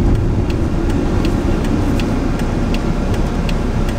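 Steady low rumble of a car driving along a road near a moor, continuous engine and tyre noise filling the whole stretch with faint rhythmic ticking above it, loud and close, no voices.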